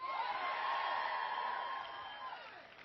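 A large outdoor political rally crowd at Curtis Hixon Park in Tampa cheers and whoops in a sustained roar that slowly fades near the end.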